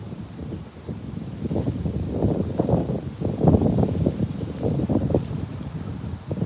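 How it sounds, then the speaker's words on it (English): Gusty wind buffeting a phone microphone, a steady low rumble with rougher bursts throughout, close and fairly loud, no voices. "Now it is a little windy outside"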